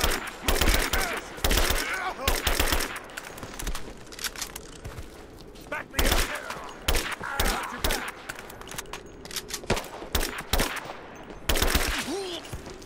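Rapid bursts of automatic gunfire from a Rise of the Tomb Raider mine shootout, repeated volleys and single shots crackling loudly over about thirteen seconds, with shouted voices and groans between the shots.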